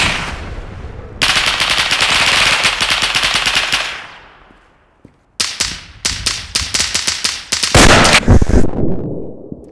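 Loud bursts of rapid automatic gunfire in the video game Roblox, one long sustained volley, a brief pause, then several shorter sharp bursts in quick succession.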